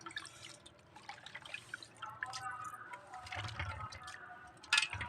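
Water splashing and trickling onto fish in a container, with intermittent drips and pours and a brief louder splash near the end. Quiet, close, no speech.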